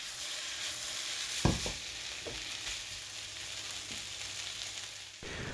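Fresh thyme leaves stripped into a hot pan sizzle and fry with a steady hiss, broken by a few sharp crackles and pops near the start and a brief stir at the end.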